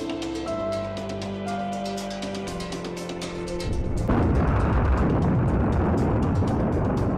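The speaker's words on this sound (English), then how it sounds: "so the explosions are getting bigger." A huge asteroid impact explosion in an animated size comparison, a deep rumbling roar that swells in suddenly midway and keeps blasting at full strength to the end, loud and dense.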